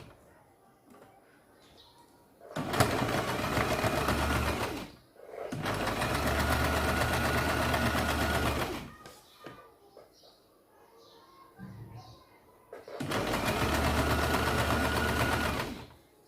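A sewing machine stitches a newborn baby's pants in three loud, steady runs of several seconds each, separated by quieter pauses with light handling noise.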